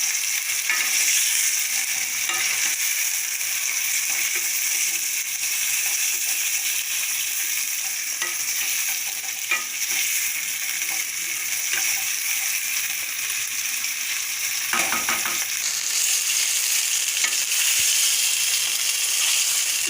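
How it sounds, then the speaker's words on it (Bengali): Chicken sautéing in a pan for lemon pepper chicken, giving a steady sizzle with occasional stirring scrapes, close and continuous with no talking. "চিকেনটাকে একটু ভালো করে কষিয়ে নিতে হবে।"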